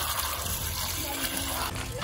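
Water pours into a container to wash freshly caught food outdoors, a steady splashing trickle running continuously with voices nearby.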